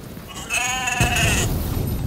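A goat in The Division gives one wavering, nasal bleat lasting about a second, close and clear over low ambient game noise, followed by a dull thud.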